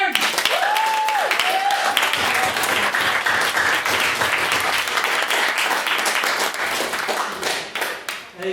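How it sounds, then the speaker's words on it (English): A debating-society audience gives a long, loud round of applause, dense clapping that runs unbroken for about eight seconds, with a brief voice at the start, before tapering off at the end. "can we please have a big round of applause for the second round of the Irish Times competitors"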